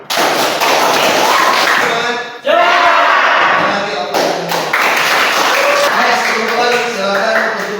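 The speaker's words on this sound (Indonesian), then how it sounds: "Tepuk tangan untuk kita semua." A class of students claps together in a loud, dense burst of applause, pausing briefly partway before resuming. Voices call out and chatter over the clapping.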